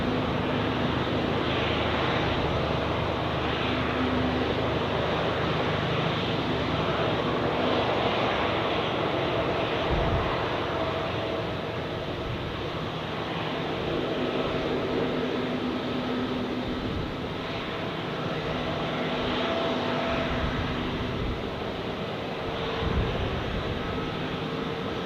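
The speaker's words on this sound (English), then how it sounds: "Departure line, we have here Austrian Airlines A320" Austrian Airlines Airbus A320 departing Zurich Airport for Vienna, a steady distant jet engine rumble and whine holding level throughout, with faint low thumps now and then.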